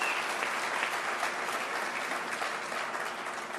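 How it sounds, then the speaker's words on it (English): An audience at a Hillary Clinton campaign rally in Johnstown, Pennsylvania applauds President Clinton, with a thick, even wash of clapping that holds steady throughout and has no speech over it. "Please give a great round of applause to President Clinton."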